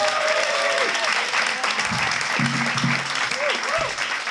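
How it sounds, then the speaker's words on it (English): Audience applause for a panelist at a panel event fills the room, a steady, dense clapping that holds throughout, with a few voices and cheers rising above it. "Can we give a round of applause for Marbie?"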